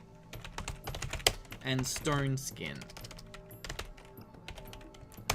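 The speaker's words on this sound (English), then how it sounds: "Typing." Rapid keystrokes rattle on a computer keyboard at close range during a D&D character creation session, steady clicking running under and between a person's speech.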